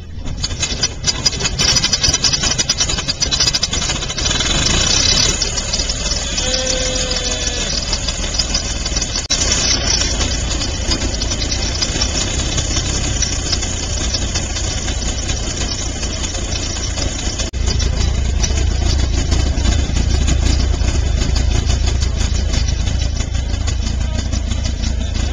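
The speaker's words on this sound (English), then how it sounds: "an air-cooled two-stroke engine mounted on a high-wheeler chassis" An early Chase Motor Truck's air-cooled two-stroke engine on a high-wheeler chassis runs close by, a loud, steady, rough idle with faint knocking, swelling slightly louder near the end.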